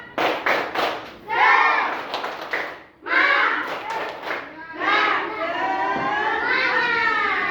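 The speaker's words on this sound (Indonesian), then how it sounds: "Yuk tepuk semangat." Group clapping chant (tepuk semangat) led in a gathering with children, with sharp rhythmic claps punctuating loud chanted voices in several short phrases.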